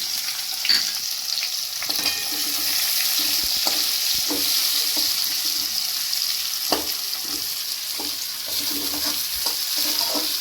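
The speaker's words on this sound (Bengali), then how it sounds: "আর দুটো লঙ্কা আমি তেলের মধ্যে রাখলাম, আর এখানে পেঁয়াজগুলো দিয়ে দিলাম।" Onions and green chillies frying in hot oil in a home kitchen for a small-fish curry, a steady close sizzle with occasional stirring scrapes and clinks throughout.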